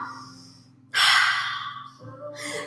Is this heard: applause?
no